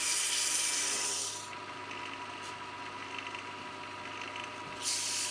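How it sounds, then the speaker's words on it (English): Steady, raspy rubbing of sandpaper on wood, close and continuous, easing slightly in the middle before picking up again. "Time for a little bit of sanding."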